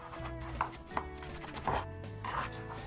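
Garlic cloves are minced with a knife on a board during campfire cooking for a pork marinade: a handful of separate wooden chops land at uneven intervals over a low background hum.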